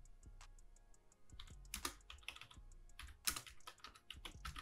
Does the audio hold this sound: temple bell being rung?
no